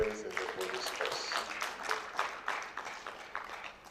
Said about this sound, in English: So a round of applause for our friends in the police force.